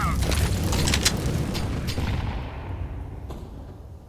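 A grenade explodes in a video game shooter, a loud booming blast at the start whose rumble trails off over several seconds, with a few sharp shots in the fading tail and voices speaking faintly.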